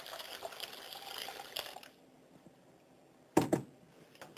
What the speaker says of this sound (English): And then add the 2 cups of hot water.